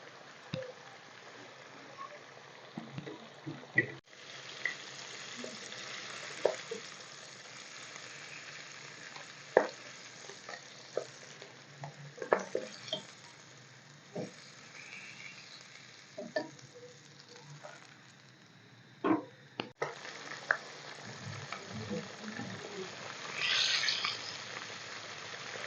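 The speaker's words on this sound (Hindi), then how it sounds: "तो इसी तरह मछली को 5-5 मिनट हमने जो है ना फ्राई करना है" Pieces of masala-coated fish frying in oil give a faint, steady sizzle with scattered soft pops and spatters, heard close but quiet, with no voices.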